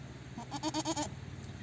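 A goat bleats on a farm, one wavering, quavering cry broken into several quick pulses, moderately close against quiet outdoor background.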